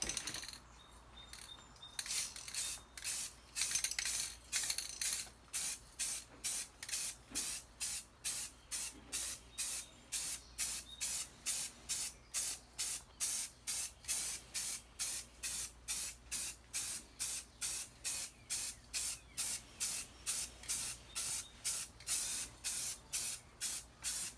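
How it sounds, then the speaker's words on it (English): Short repeated bursts of spray paint hiss as white paint goes onto a wooden flag, a steady rhythm of roughly one-second sprays with brief pauses between them, close and fairly loud with no talking. "We're ready to spray it white."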